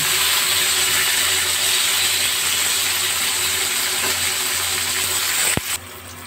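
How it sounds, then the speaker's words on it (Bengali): Pointed gourd fries in oil with a pinch of salt and turmeric over a high gas flame, a continuous bright sizzling hiss that ends with a sharp click near the end, then quieter background. "ওই পটলগুলো ভাজা ভাজা করে নেব"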